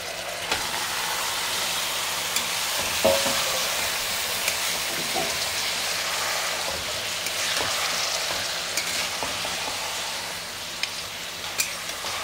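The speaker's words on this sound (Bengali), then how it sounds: "এবার আমি ওই ম্যারিনেট করে রাখা চিকেনটা দিয়ে দিচ্ছি। দেখো কিরকম চিকেনটার থেকে জল বেরিয়েছে।" Marinated chicken frying in a pan and being stirred, releasing water, a steady broad hiss of sizzling with a few faint clicks and scrapes, close and even throughout.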